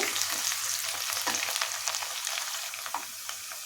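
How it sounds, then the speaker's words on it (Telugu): Sliced onion pieces frying in hot oil, a steady close sizzle with soft crackles and occasional stirring scrapes, no voices, for a South Indian coconut rice and chicken dish. "ఆయిల్ హీట్ ఎక్కింది కదండి, ఉల్లిపాయ ముక్కలు వేస్తున్నాను."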